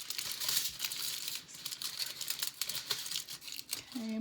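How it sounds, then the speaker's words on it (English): Aluminum foil being gently crumpled and folded by hand into a sculpture, close and crackly, in uneven bursts of crinkling, with a brief voice at the very end. "I'm just kind of gently crumpling this."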